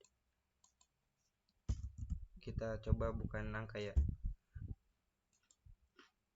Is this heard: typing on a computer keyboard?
yes